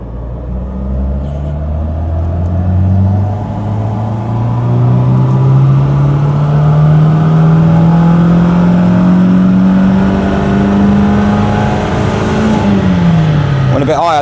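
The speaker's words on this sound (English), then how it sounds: "Right, so off we go again. Get the rollers moving." A Citroen BX 16TRS engine on a rolling-road dyno climbs steadily through a long, loud, close rev run, its pitch rising for over ten seconds before dropping sharply as the throttle comes off.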